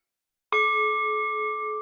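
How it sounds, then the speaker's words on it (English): A sound bowl is struck once in a quiet room at the start of a restorative yoga class, giving a clean bright strike followed by a steady, pure ringing tone that sustains and slowly fades, alone without talk. "I will begin with a ringing of the sound bowl"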